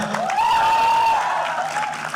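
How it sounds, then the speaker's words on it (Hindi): Audience applause at the launch of a TV show, Bigg Boss OTT Season 3, rises into a steady, loud burst of clapping that holds for a couple of seconds. "जरा मुंह में फंसाओ और ताली बजाओ एक बार जोरदार"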